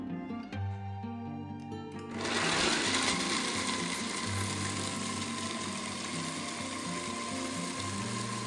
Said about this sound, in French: Ensuite je vais m'occuper de mixer 100 g de noix de pécan.